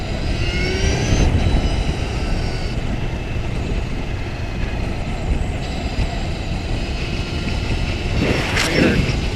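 A Victory Empulse TT electric motorcycle cruises steadily, with a continuous rush of wind and a thin, high electric motor whine that holds level throughout. A brief louder gust comes near the end, and no one speaks.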